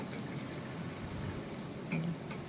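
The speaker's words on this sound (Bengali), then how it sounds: "আমি আরেকটুও পেঁয়াজ ভেজে দেব একটা মিডিয়াম সাইজের পেঁয়াজ কুচোনো" Finely chopped medium onion frying in hot oil for a soybean dish, a faint, steady low sizzle with a couple of soft clinks near the end.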